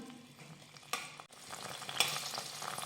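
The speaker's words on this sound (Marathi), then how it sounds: "इथं तेलावरती हा मटार दोन मिनटं परतून घेतलेला आहे" Frozen green peas sautéing in hot oil in a pan for a matar paneer curry, a soft steady sizzle with light stirring scrapes and a couple of sharper clinks, fairly close and alone.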